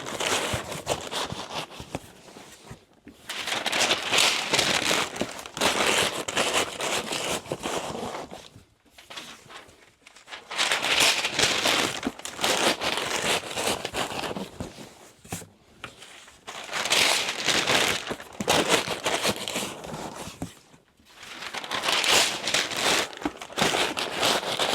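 Paper crumpled and stuffed into a cardboard shipping box as packing material, heard as loud, continuous crinkling in long bursts separated by brief pauses.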